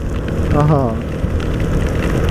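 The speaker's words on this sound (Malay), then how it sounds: "Hujan ni." Heavy rain pours down in a steady, dense roar, loud and close, while a voice speaks briefly over it.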